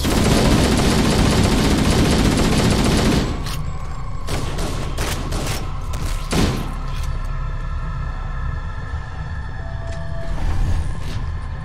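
Rapid automatic gunfire from Halo: Combat Evolved, a dense loud burst that stops abruptly, followed by scattered single shots and thuds over ambient game noise.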